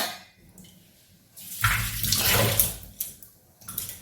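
Water pours into a pan of peas for ghugni, a broadband splashing rush lasting a couple of seconds with a quieter trickle near the end, close and alone.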